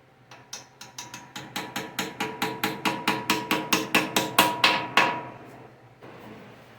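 A sticky valve on a blown tractor engine is worked loose with a rapid series of about twenty sharp metallic clacks that grow louder and quicker, then stop, leaving a faint hum.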